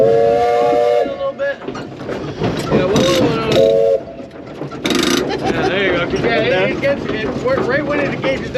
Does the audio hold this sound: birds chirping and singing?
no